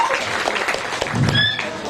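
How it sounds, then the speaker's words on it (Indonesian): Brief applause from an audience at a Christmas celebration, a short patter of clapping under a low murmur of voices. "Tepuk tangan dulu buat Pak Herli."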